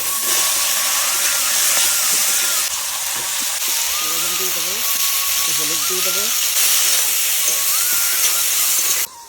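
Chicken pieces frying in hot oil with cumin, black spice powder and green chili, a steady loud hiss and sizzle running throughout, with a voice speaking briefly partway through.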